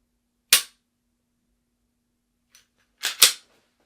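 Sharp dry-fire trigger clicks from a handgun, one isolated snap followed after a pause by a quick close pair, crisp and near against silence.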